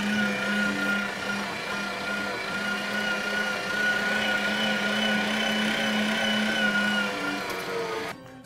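An electric meat grinder works through game meat scraps with a steady, droning motor hum and a faint whine, running evenly for several seconds before cutting off abruptly at the end.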